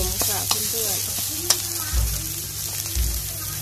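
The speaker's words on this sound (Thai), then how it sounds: "เราจะผัดพริกแกงให้หอมนะคะ" Thai curry paste stir-fried with coconut milk in a wok for a river snail curry, a steady close sizzle and frying hiss with occasional stirring clanks and scrapes of the utensil against the pan.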